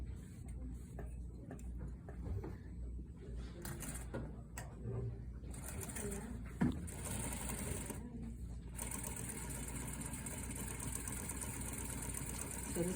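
A sewing machine stitches a 1/4 inch seam on a garment placket, a steady close mechanical hum and rapid ticking that runs throughout, with light handling clicks in the first half.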